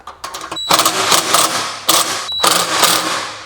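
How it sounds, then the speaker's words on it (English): An impact driver fitted with a hex head bit tightens a screw in two loud, rattling hammering bursts, each preceded by a brief whine and separated by a short pause. "a hex head bit on my impact driver, and I'm not going to really crank this in there"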